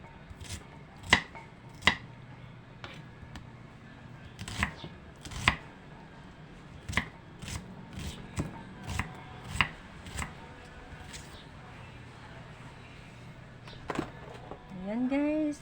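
An onion is chopped finely with a knife, giving about a dozen sharp, crisp strikes at an uneven pace, close to the mic, with faint talk in the background.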